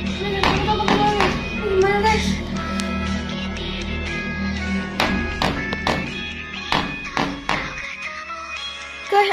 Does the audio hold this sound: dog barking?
no